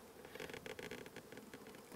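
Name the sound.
honey bees buzzing at a beehive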